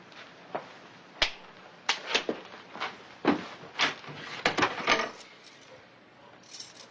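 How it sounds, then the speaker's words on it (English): A desk drawer is pulled open in a western drama scene: a quick series of wooden clunks, knocks and rattles, moderately close and with no talk. "Open the drawer."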